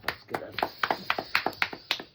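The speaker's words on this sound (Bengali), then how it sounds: "দারুন দারুন দারুন হাততালি দাও" Hands clap in a lively, irregular patter of about a dozen sharp, close claps at home, with a voice briefly mixed in.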